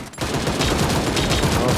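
Sustained automatic gunfire with no recoil in Sausage Man, a rapid continuous loud burst of shots starting almost immediately and holding steady to the end.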